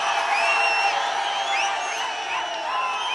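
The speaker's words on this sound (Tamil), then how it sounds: "என்ன ஆரவாரம்!" A large crowd at a 2016 Tamil Nadu election campaign rally in Namakkal roars and cheers continuously, with shrill whistles and whoops cutting through the loud, sustained wall of voices.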